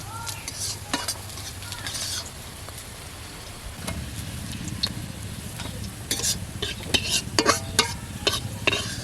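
Onions frying in hot oil in a pan for village-style country chicken curry: constant crackling sizzle with repeated scraping stirs and metallic clinks as the onions are lifted out, close and fairly loud.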